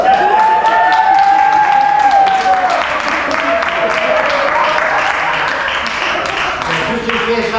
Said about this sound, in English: can I have the applause now? Just had it.